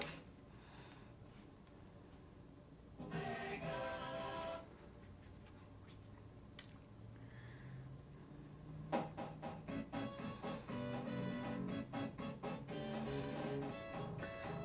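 Sonic the Hedgehog running on a Sega Genesis Mini by Radica, faint game music and sound effects that come out muffled and distorted, with quiet jingles and chimes across the whole stretch and no talking.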